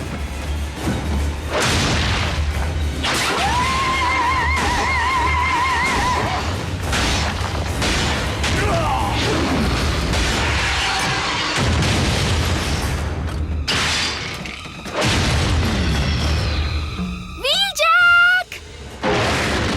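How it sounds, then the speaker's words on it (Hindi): Cartoon grenade explosions in Transformers: Prime give several booming thuds and crashes amid busy action effects, with a tonal whine near the end, loud and close, under Hindi-dubbed character voices. "उस पर ग्रेनेड फेंको।"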